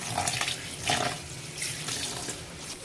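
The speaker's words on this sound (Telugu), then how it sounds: "ఈ నూడిల్స్ని మనము రన్నింగ్ వాటర్లో వాష్ చేయాలండి" Running cold tap water pours steadily into a sink, with a few brief louder splashes as cooked noodles are rinsed under the stream. No voices.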